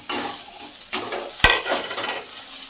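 Chopped garlic, ginger and green chillies fry with onions in a pan for a fish-head moong dal. A steady close sizzle runs throughout, broken by several sharp scrapes and knocks of a spatula against the metal.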